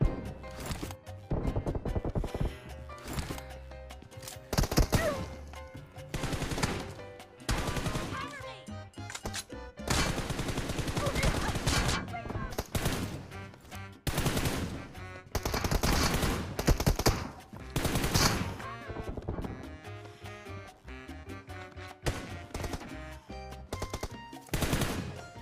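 Gunfire crackles through a team deathmatch video game, with loud rapid machine-gun bursts and single shots that come in clusters separated by short gaps, alongside a voice talking.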